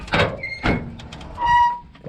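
The door of a rusty 1955 Chevrolet shortbed pickup, a barn find pulled from a pasture, is opened and moved, giving a few metallic thunks and creaks close by.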